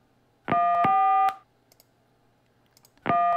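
Telephone keypad tones in the Gabriel Knight: Sins of the Fathers adventure game, each press a click followed by a sustained bright tone, two long tones separated by a quiet gap with faint clicks.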